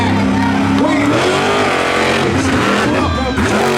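A monster truck rolls onto the track at a show and its heavy engine rumbles loud and close while it revs and settles, with arena noise and an announcer's voice layered over it.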